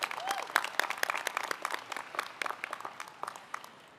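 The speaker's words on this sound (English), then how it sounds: "Please give them a round of applause." Audience applause at a university commencement ceremony, a steady wash of many hands clapping at moderate distance that thins and tapers toward the end, with no talking over it.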